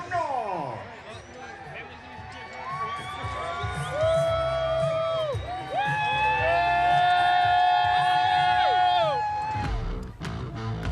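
Stadium crowd at an Austin Bold FC soccer match during a shirt and towel toss, loud cheering and whoops mixed with whistles and an announcer's talk, swelling and staying strong before fading.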